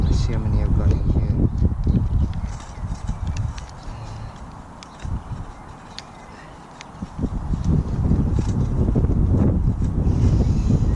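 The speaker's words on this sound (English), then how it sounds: "The problem I've got now is it's quite windy" Gusty wind buffets the microphone at an outdoor allotment, a loud, rough rumble that surges and eases, with occasional knocks and rustles.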